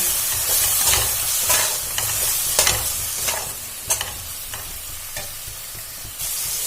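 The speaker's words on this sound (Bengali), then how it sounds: "আবারও ভালো করে নাড়াচাড়া করে ভেজে নেব।" Potato and pointed gourd curry fries in a pan with a little water added, a strong close sizzle and steam hiss under rhythmic stirring scrapes and spatula taps, with no talk.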